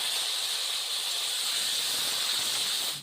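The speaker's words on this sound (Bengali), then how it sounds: "ডিম ভাজা তেলে কেটে রাখা আলুগুলো ভেজে নিব" Cut potatoes frying in mustard oil left over from frying eggs, producing a steady, even hiss of oil that stays close and constant throughout.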